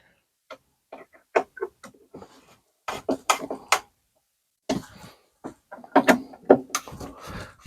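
Screws being driven by hand to mount solar panel switch gear, producing clustered ratcheting clicks and ticks in short bursts separated by pauses, close and moderately loud.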